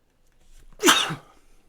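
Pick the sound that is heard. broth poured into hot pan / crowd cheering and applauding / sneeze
sneeze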